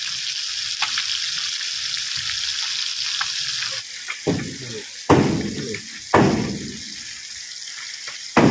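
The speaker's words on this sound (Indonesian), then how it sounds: "Kita goreng hasil menjala tadi" Freshly netted babon fish fry in a hot pan with a steady close sizzle, then loud crackling bursts flare up several times as pieces go in or get turned.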